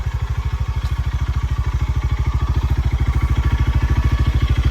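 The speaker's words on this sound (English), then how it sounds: "it's got that hesitation in it, and it sputters, and it's loud" The engine of a Tractor Supply Bighorn Explorer runs loud and near, a rapid rhythmic chugging with a slight uneven sputter throughout, no voices.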